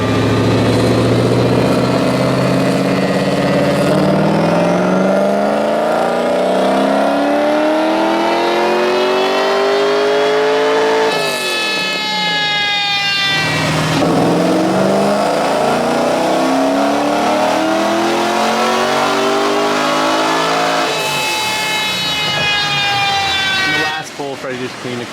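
A Mazda RX7 FD with a G30-660 turbo revs hard on a dyno, running through three long rising pulls. Each pull climbs in pitch and then drops off, loud and close throughout.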